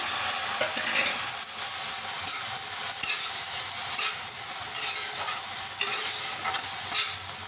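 Chopped tomatoes are stirred into a frying chicken soup base, with a continuous sizzle under repeated scraping stir strokes of a spoon against the pan, no talk.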